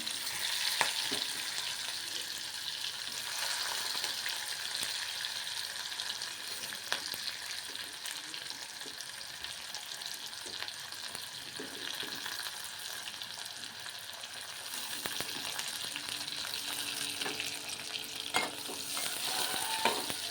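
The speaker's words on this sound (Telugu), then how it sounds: "ఇవి దోరగా అయ్యేంత వరకు వేపుకుందామండి" Onions and curry leaves fry in a pan as a long, steady, fairly quiet sizzle with occasional stirring clicks and no speech.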